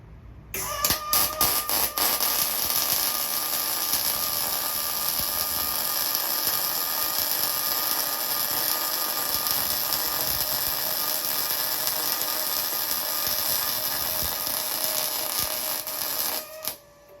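An Arccaptain MIG 200 welder laying a MIG bead, giving a loud, steady crackling buzz that starts abruptly and runs unbroken for about fifteen seconds before cutting off, close and alone.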